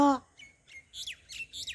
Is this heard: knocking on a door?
no